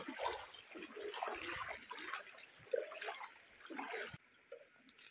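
A small stream flowing into the Bharja river in the Konkan countryside, faint water trickling and gurgling steadily with light splashy bursts, quiet and close, with no talk.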